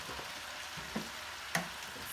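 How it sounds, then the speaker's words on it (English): Cabbage, sausage and garlic frying in a pan, a steady close hiss of sizzling with a couple of brief clinks as the food is stirred. "you hear it sizzling"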